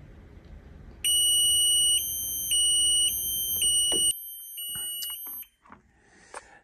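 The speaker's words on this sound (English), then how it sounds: "a low alarm right there." Low-level alarm on a tank level gauge, a loud high-pitched electronic beeping in repeated pulses over a quiet hum, then stopping abruptly and leaving faint clicks and handling sounds.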